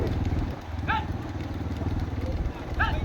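A motorcycle engine at a race drones continuously with a rapid throbbing pulse, while faint whistle-like calls rise twice over it.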